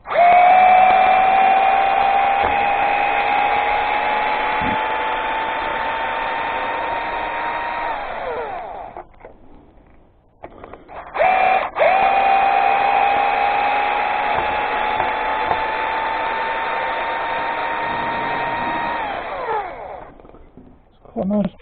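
A Parkside 20-volt cordless power tool runs loud and steady with a whining motor in two long bursts during a shed frame build, with a brief pause between them and no talk.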